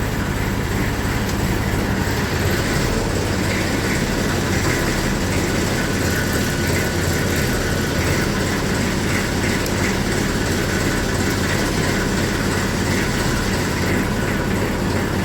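A tractor engine runs steadily, loud and close, with a tight, strained sound not yet settled, giving a continuous rattling rumble with no pauses.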